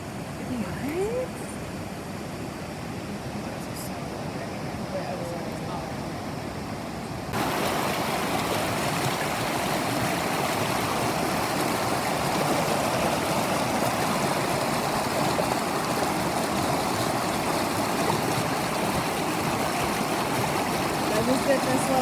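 A stream or waterfall near Tampico, Mexico rushes in a broad, steady roar that grows louder partway through, with a voice talking over it.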